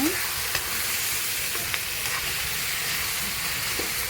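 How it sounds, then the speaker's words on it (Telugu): Tomatoes and green chillies cook down in a pan for a village-style roti chutney, a steady close sizzle and simmer with a few soft scrapes of stirring throughout, no voices. "ఇలా ఉడికించుకొని మనం తిప్పుకుంటూ ఉండాలి"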